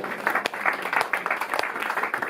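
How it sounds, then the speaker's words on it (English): Steady audience applause at a folk club's annual Christmas pantomime of Jack and the Beanstalk, a dense patter of many hands clapping continuously and fairly close throughout. "Ladies and gentlemen, a little applause, please."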